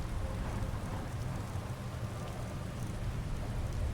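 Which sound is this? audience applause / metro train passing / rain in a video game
rain in a video game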